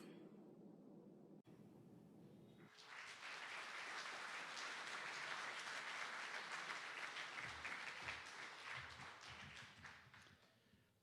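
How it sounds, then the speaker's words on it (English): A crowd applauds Hall of Fame inductees at a high school football event. After a brief quiet, muffled start, clapping swells into a broad, sustained roar of many hands, then tapers slightly. "Let's hear one more round of applause for all of our inductees"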